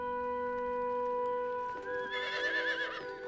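A horse neighs loudly and close by, a high wavering whinny rising over a sustained musical tone in a period drama scene.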